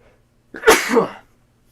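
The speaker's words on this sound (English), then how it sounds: "Oh, I sneezed." A single sharp sneeze, close and loud, bursts out of near silence and trails off quickly.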